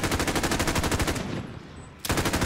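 Gunfire from Call of Duty Warzone on PS4: a loud, rapid string of close shots that stops briefly and then resumes, with no voices.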